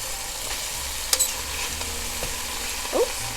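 Pork chops are flipped in a pan and fry with a steady close sizzle, broken by a sharp clack of the utensil.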